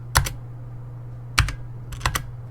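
A few sparse bursts of keystrokes on a computer keyboard, close and crisp, separated by pauses over a steady low electrical hum.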